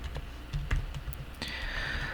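Keystrokes tapped on a computer keyboard during web-coding work, a brief scatter of light clicks over a quiet background, with a steadier soft hiss joining partway through.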